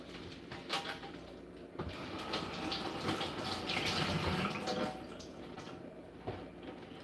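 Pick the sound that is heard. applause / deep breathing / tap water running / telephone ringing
tap water running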